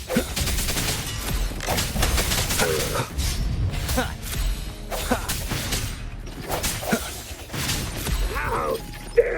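Rapid gunfire and crashing impacts in the Wuthering Waves video game, loud dense bursts with whooshing effects under a busy game soundscape.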